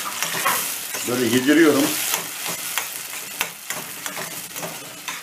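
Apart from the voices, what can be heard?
stirring tomatoes cooking in a pan for menemen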